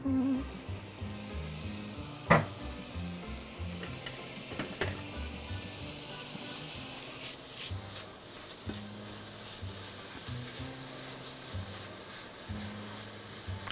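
Smoked bacon frying in a pan, a steady low sizzle and crackle with occasional sharper pops, close and quiet, with no talking.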